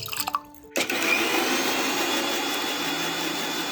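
A kitchen mixer grinder grinds soaked dal with water, starting after a few brief clatters and then running as a loud, steady whirring roar, close by.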